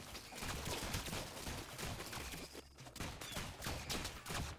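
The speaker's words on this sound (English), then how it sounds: "Stop absorbing bullets, Cap!" Gunfire in the Rounds video game keeps up as a dense, steady barrage of rapid shots and impacts with almost no gaps, mixed with busy game effects at a moderate level.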